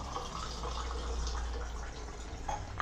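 Water poured into a drinking glass at home, a faint, steady pour under room noise.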